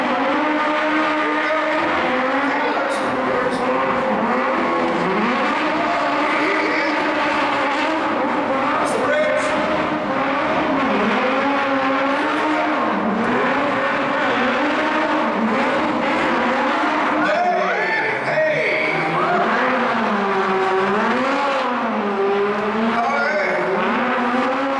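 A stunt-show car tears along at speed, its engine and squealing tires forming a loud, continuous wavering whine that rises and falls throughout.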